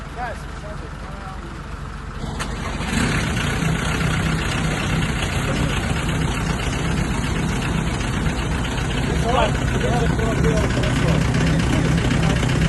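A buggy engine idles and revs steadily throughout, rising in loudness after the opening seconds, with voices talking over it.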